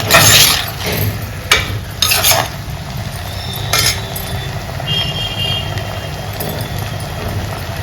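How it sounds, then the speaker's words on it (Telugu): Onions with salt frying in a pan make a steady sizzle, with a few sharp scrapes and clinks of a utensil against the pan early on, close and fairly loud. "ఉల్లిపాయ త్వరగా వేగాలంటే రెండు గొల్లు ఉప్పు వేసుకుంటే ఆ చెమ్మకి ఉల్లిపాయ తొందరగా మగ్గిపోతుంది"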